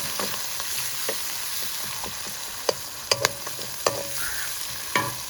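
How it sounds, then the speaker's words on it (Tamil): Onions sauté in a pan with a soft continuous sizzle, broken by a handful of sharp scraping taps from stirring, close and fairly quiet. "அடுத்ததாக நான் வெட்டி வச்சுக்கிட்ட வெங்காயத்தை சேர்க்கிறேன். லைட்டாக வதக்கி எடுப்பேன்."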